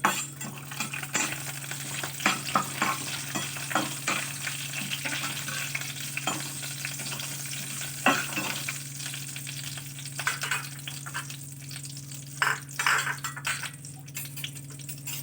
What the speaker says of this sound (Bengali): দিয়ে তারপরে এটাকে নাড়াচাড়া করতে হবে।